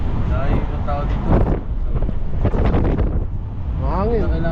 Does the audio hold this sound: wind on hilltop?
yes